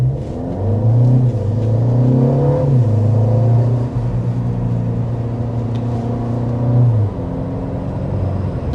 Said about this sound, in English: Now, as I accelerate out of that red light